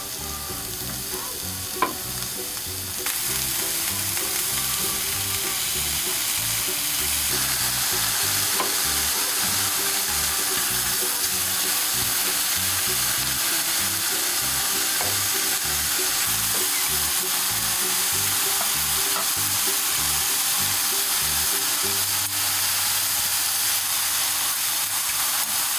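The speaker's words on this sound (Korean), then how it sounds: "기름 두르지 않는 팬을 잘 달구어서 버섯을 초벌구이 해줍니다." Mushrooms dry-roast in a well-heated frying pan without oil, giving a steady close crackling sizzle and hiss with occasional stirring scrapes, continuous throughout and without speech.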